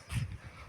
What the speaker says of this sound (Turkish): Bu da bizim köpeğimiz